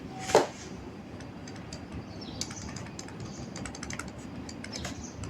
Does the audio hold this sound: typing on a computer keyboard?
yes